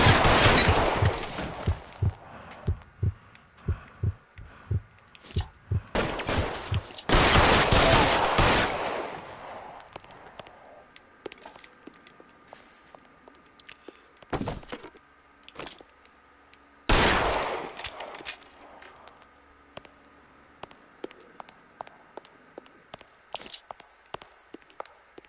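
Gunfire in the L.A. Noire video game, loud sharp shots in rapid bursts and volleys, then scattered single cracks and footsteps in quieter stretches between heavier barrages.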